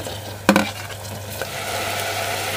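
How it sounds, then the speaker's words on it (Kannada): Soaked fenugreek seeds splutter in hot oil: a steady sizzle with a sharp pop early on and a smaller crackle a second later. "ನೆನೆಸಿದ್ದಂಥ ಮೆಂತ್ಯ ನೋಡಿ, ಸ್ವಲ್ಪ ಪಟ್ ಪಟ್ ಅಂತ ಹರಡ್ಕೊಳ್ತಾ ಇದೆ"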